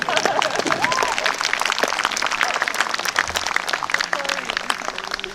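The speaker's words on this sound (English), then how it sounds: "Yes, you are allowed to clap for that indeed." At an Independence Day anniversary celebration, an audience claps in a dense, continuous wave of applause while someone speaks over it through an amplified system.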